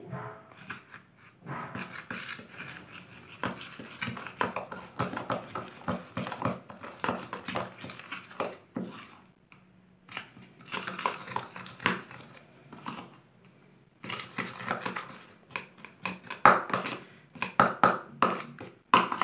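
Shampoo hair pack being stirred in a bowl, with repeated close scraping and rubbing strokes in an irregular rhythm and brief pauses between bursts.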